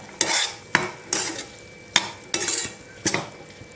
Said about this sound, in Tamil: இதை நல்லா மிக்ஸ் பண்ணி விட்டுறணும்